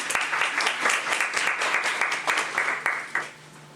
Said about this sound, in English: So can we please give Sophia a round of applause